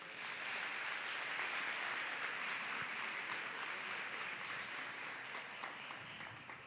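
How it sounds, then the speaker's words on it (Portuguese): Steady, dense applause from a church congregation during a sermon, a continuous wash of clapping that holds evenly for several seconds at moderate distance. "Aplaude se você está entendendo"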